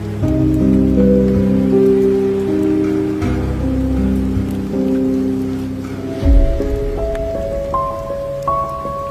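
Heavy rain pours steadily near a bus stop, a dense continuous wash of noise layered with sustained low droning tones and a brief thump near the middle.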